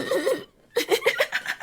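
A person uses their voice to imitate a very soft, light cough: a couple of short, breathy bursts with a brief pause between them, close up.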